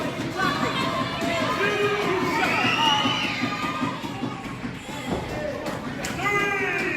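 Crowd at an ACW Proving Ground wrestling show cheering and shouting steadily throughout, a dense roar of voices with excited yells rising at moments.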